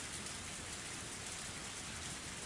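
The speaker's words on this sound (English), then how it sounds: "Even the sound of the engine faded into the sound of the heavy rain and was inaudible now." Heavy rain in the Higurashi When They Cry visual novel, a dense, continuous hiss of downpour at low volume with no other sounds.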